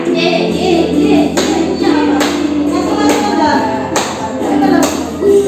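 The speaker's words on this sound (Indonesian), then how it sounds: "Sambil nyanyi dan tepuk tangan ya" Children sing together while clapping hands in a steady beat, playing the long-dragon line game in a school lesson, with sharp claps cutting through the sustained voices.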